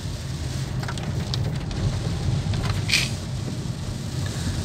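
Heavy rain pours steadily near Yellur Fort in Belagavi, a continuous dense wash with a low rumble beneath and a few brief sharper splashes, with no talking.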